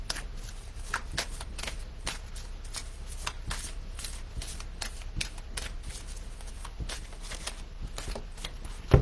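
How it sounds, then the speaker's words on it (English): Oracle cards are shuffled continuously by hand, giving a steady, close riffling and sliding rustle with quick flicks throughout and no talk over it. "And Lisa Tinson, let's pull a card for you."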